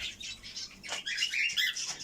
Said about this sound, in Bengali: এখানে আসলে এই পাখিগুলা যে ডিস্টার্ব করে আমাকে কাঁধে এসে বসে থাকে